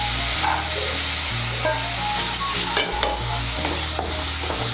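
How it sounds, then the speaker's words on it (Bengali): Chopped beans and peas frying in hot oil, a steady loud sizzle with the scrape and clatter of stirring throughout. "বিনস আর মটরশুঁটিটাকে তেলের সঙ্গে মিশিয়ে নিয়ে একটু ভেজে নেব।"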